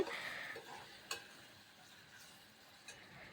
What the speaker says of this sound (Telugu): ఆనియన్ కూడా నెయ్యిలో అయితే ఫ్రై అవ్వాలి